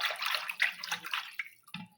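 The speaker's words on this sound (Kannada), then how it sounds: "ನೀರು ಹಾಕಿ ಹಿಂಗೆ ಕಟ್ಟಿಬೇಕು ನೋಡ್ರಿ." Water is poured into curd in a bowl to make spiced buttermilk, a quiet close trickle and splash that runs unevenly and then ends with a short gurgle.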